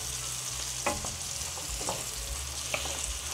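A pot of soup with carrots being stirred, giving a steady bubbling simmer with a few soft scrapes of the spoon against the pot.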